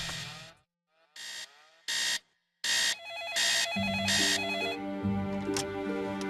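An electronic telephone rings for a hotel wake-up call in repeated loud bursts separated by short gaps, then gives way to a sustained tone with a low musical bed underneath.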